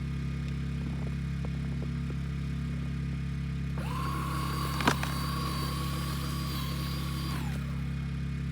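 A Snow Joe electric snow shovel runs with a steady, fairly loud whirring motor for about four seconds, with a brief sharp knock partway through as it throws snow, and quieter ambient noise before and after.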